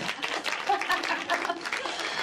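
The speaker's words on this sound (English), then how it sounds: "You don't applaud?" A modest burst of scattered clapping from an audience of mostly suited attendees in a large room at a business workshop, fairly close and uneven, with faint chuckles and murmurs mixed in.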